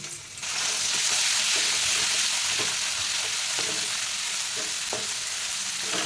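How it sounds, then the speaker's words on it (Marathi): Ginger, garlic, coconut and coriander paste hitting very hot oil on a wood-fired stove, a sudden loud continuous sizzle with occasional soft stirring scrapes, no talking. "तेल चांगलं कडकडीत गरम झालं की आलं, लसूण, खोबरं आणि कोथिंबीरीची पेस्ट घालायची."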